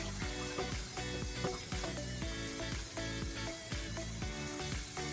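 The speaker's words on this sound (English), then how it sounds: "Rinse off all the potatoes." Water splashing and sloshing as potatoes are rinsed in a pot for mashed potatoes, a busy close stream of watery clatter with rhythmic knocks of potatoes against the pot, moderately quiet and continuous.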